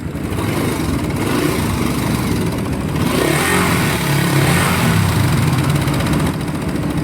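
A vehicle engine runs steadily and loudly nearby, a continuous rough drone with slight rises in revs, no talking.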